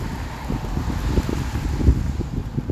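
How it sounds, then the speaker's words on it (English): Wind blowing outdoors at a camp, a steady rushing roar with gusty buffeting against the microphone throughout, close and fairly loud with no other clear sounds. "Wind is picking up."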